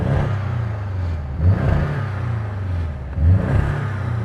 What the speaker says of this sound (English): The new Boxster has a flat 4 turbocharged petrol engine